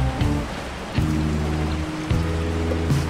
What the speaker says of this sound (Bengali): বাইরে খুব বৃষ্টি হচ্ছে